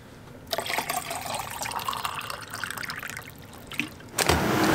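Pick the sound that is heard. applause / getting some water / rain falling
getting some water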